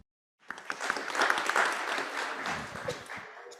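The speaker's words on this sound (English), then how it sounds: "A round of applause to Dr." Audience applause breaks out at a business forum in Phnom Penh, rising quickly from silence into a dense, moderately distant wash of many hands clapping that holds steady to the end.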